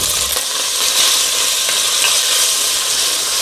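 Diced ham frying in hot olive oil in a soup pot gives a loud, continuous close sizzle, with faint scraping stirs now and then and no talk.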